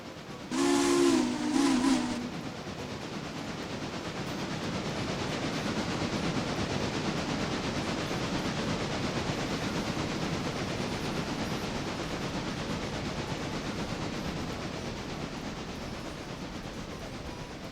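A steam locomotive in the Railroader video game sounds a loud, layered steam whistle for about two seconds, then a steady broadband rumble of the passing train rolls on without letting up.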